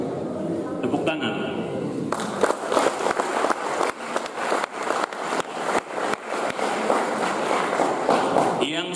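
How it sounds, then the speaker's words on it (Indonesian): A crowd of university community-service students claps at a regency welcoming event in Keerom, with dense, steady applause that starts after a couple of seconds and runs for about six seconds before stopping abruptly. "Tepuk tangan."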